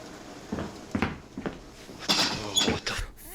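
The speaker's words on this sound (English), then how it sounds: "The sound of footsteps is heard right behind him" Footsteps approach close behind someone in a dark setting, several irregular soft thuds and scuffs with a creak, growing louder toward the end.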